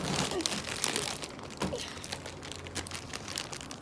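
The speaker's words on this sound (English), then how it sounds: "All right, tear that open." Cardboard and plastic packaging around a metal garden hose being torn open and crumpled up close, with steady crinkling and a few sharper rips throughout.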